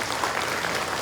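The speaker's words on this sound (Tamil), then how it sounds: "நீங்களே ஒரு முறை சத்தம் போட்டு கைத்தட்டி மகிழ்ச்சியை தெரிவித்துக் கொள்ளுங்கள்" A dense burst of audience clapping fills the hall, loud and continuous with no gaps.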